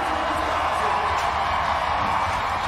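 Dense rodeo arena crowd roaring and cheering for a bull rider after a completed ride at a PBR event, a steady wide wash of noise with no separate claps standing out.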